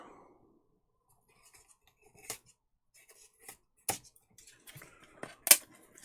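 Foam board cut by hand for a model railway layout: quiet, sparse snips and crisp clicks spaced a second or so apart, close and faint against near silence.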